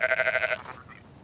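A sheep gives a single nasal, wavering bleat close by, hungry at winter feeding time, followed by a fainter second call.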